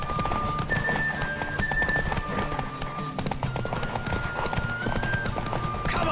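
A horse gallops in The Witcher video game, rapid rhythmic hoofbeats pounding steadily and close over a sustained musical score, with a brief whinny-like sound.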